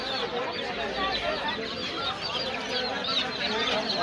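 Chickens cluck at a busy outdoor livestock market that also sells ducks and birds, a dense chatter of clucks over crowd murmur.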